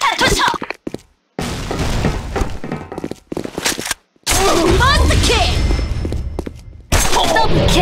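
A grenade goes off in the online shooter Sudden Attack, heard as heavy thuds and crackling blasts amid game effects. The bursts come in loud chunks separated by brief silent gaps.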